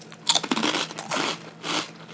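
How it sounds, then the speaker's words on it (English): Crunchy croutons chewed up close, with several bursts of crisp crackling crunches in an uneven rhythm, fairly loud and with no talking. "And our croutons, they are crunchy"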